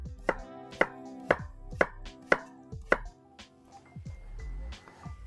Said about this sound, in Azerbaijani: digər kartofları da eyni qaydada bir balaca incə və gördüyünüz kimi xırda doğrayıram